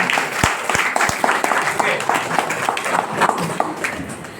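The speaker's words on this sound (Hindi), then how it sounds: "एक जोरदार ताली भैया के लिए हो जाए।" A seated audience at a distributor training session in a hall gives a burst of steady applause. Several louder claps stand out near the start, and faint voices mix in.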